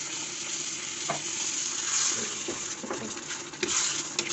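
Beef stir-frying in a pan with mala chili sauce and a splash of water, a steady loud sizzle with scattered scraping stirs and clacks of the utensil against the pan, no voices.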